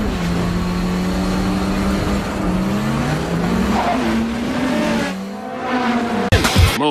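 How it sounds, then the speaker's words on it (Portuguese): A lowered car slides sideways over a speed bump, tires squealing in long wavering tones over loud engine noise, ending in a sharp thump and rattle. "E um drift de lado no quebra-molas."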